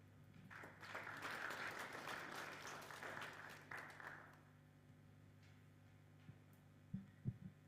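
An audience at a research dissemination forum bursts into applause, the clapping rising quickly, holding steady for a few seconds at moderate distance, then fading out into quiet room hum with a couple of faint knocks.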